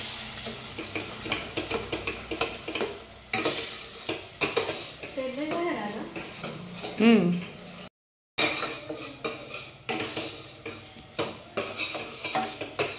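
Masala for crab curry stir-frying in oil in a pan, with a steady sizzle under repeated scraping and clinking of a spoon against the pot, close and fairly loud, briefly cut by a short silent gap.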